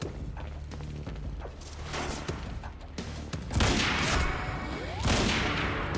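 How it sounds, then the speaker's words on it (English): Gunfire in the video game Quantum Break: a string of sharp shots and booming bursts in quick succession, some louder and closer than others, over a busy background. "I shot that bullet and it bounced off the wall and ricocheted back into his device"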